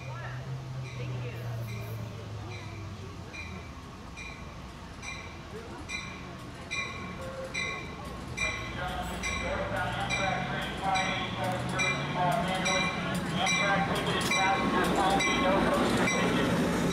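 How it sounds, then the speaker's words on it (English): Amtrak Pacific Surfliner train 587 pulls into Sorrento Valley station, rumbling nearer with rhythmic wheel clatter and rising squeals as the cars roll past loudly. "Amtrak train 587 pulls into Sorrento Valley with service to Los Angeles."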